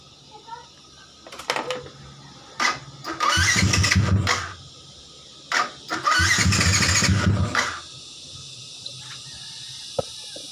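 A Yamaha Sniper motorcycle with a 150cc big-bore block, racing cam and racing CDI cranks over with short starter bursts, then catches and revs loudly twice, close by, before dropping back to quiet.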